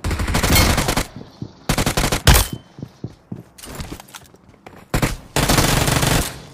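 Gunfire in a BGMI squad fight: long bursts of loud, close automatic fire broken by short gaps and scattered single shots, with no talk over the shooting.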